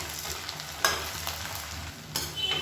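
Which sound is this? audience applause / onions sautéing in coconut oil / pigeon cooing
onions sautéing in coconut oil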